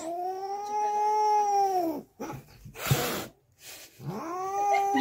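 Tomcat and female cat fighting indoors, with loud sustained caterwauling wails broken by a harsh hissing spit in the middle before the yowling resumes, close and continuous.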